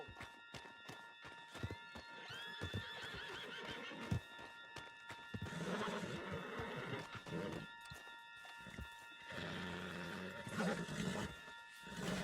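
A horse whinnies amid galloping hooves and rumbling game effects in Red Dead Redemption 2, fairly faint overall, with steady tonal music lines running underneath.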